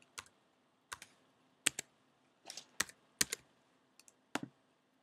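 A password goes in on a computer keyboard as sparse, distinct keystrokes, single taps and quick pairs, crisp and close in an otherwise quiet room, with no speech.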